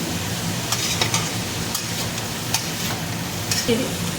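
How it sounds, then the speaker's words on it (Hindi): Cumin potatoes (jeera aloo) fry on a high gas flame, giving a steady close sizzle broken by occasional scraping stirs of a spoon in the pan. "थोड़ा से तेज़ गैस पे भून लेंगे।"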